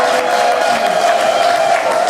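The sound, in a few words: church congregation applause and ululation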